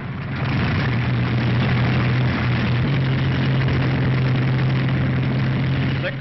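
Piston engines of P-47 Thunderbolt fighter planes run steadily at low pitch, a continuous loud drone with a strong low hum holding for several seconds, no voices.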